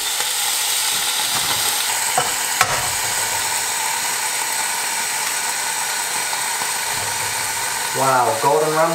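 Food sizzles steadily in a pan while being stirred, a constant frying hiss with small scraping taps, and a voice joins near the end.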